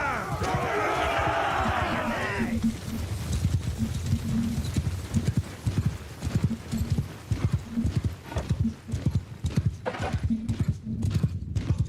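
Cavalry horses gallop in the Bannerlord video game (Warhammer Old Realms mod): dense, loud hoofbeat clatter with whinnies at first, then thinning into scattered, uneven thuds as the charge moves on.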